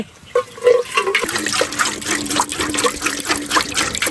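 Water poured into a cooking pot over a gas flame while cooking a sour curry outdoors in a garden; a steady trickling, splashing pour runs close and moderately loud throughout, with no talking.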